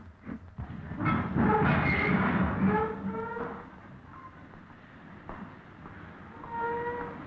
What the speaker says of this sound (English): The express pulls out for the steep climb up the spiral